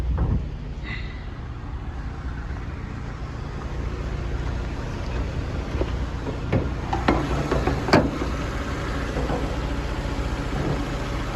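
A 2008 Skoda Octavia A5 1.6 MPI engine idles with a steady low rumble, close by, with a few faint clicks and knocks over the continuous hum.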